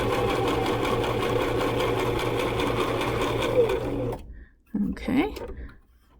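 Sewing machine running steadily as it stitches fabric along the outside edge of the presser foot, a loud continuous whir for about four seconds before stopping, followed by brief handling noises.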